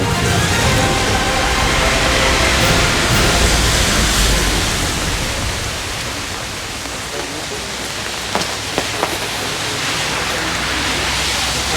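Heavy rain pours steadily as a dense, broadband hiss, loud and continuous throughout with a slight easing midway, accompanied by a few faint clicks near the end and no clear talk.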